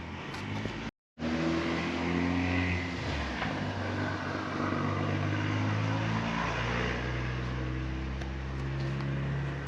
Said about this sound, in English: There goes the diesel.